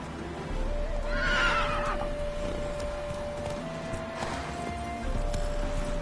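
A horse in The Witcher 3 gives a clear whinny early on, over soft hoof clatter and a low game ambience, with a long steady tone and a faint rustle afterward.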